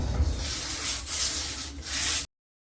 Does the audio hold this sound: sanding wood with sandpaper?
yes